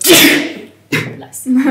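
A single sharp sneeze bursts out at the start, loud and close, followed by a short pause and then a voice speaking briefly during a casual conversation.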